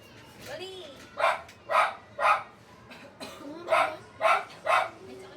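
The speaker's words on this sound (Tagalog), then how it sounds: "Inuubo kasi ako." A person with a cough coughs repeatedly in a series of about seven harsh, close bursts, evenly spaced, with some vocal sounds in between.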